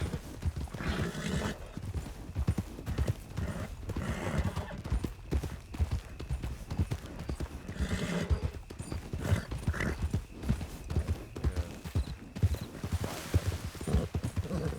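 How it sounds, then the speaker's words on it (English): Steady clip-clop of many hooves pounding in a dense, continuous rhythm, with occasional whinnies rising over the galloping herd. "There are a lot of horses going maybe into Blackwater."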